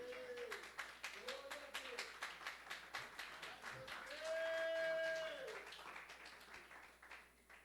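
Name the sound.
congregation applauding in church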